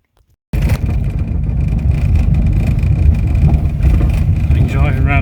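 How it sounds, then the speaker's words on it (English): A Citroen AX driving around a field, a steady close engine drone and rumbling road noise starting abruptly and continuing throughout, with someone talking over it. "I've been driving around the field"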